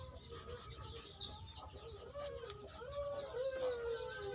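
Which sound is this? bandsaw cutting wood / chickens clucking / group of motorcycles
chickens clucking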